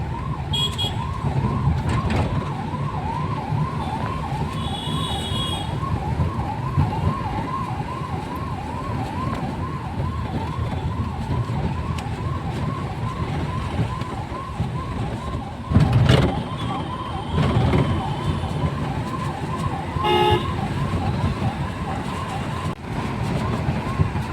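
An ambulance siren wails in a steady repeating rise-and-fall cycle, heard from inside a car on the road alongside constant engine and road rumble, with a brief louder passing vehicle midway.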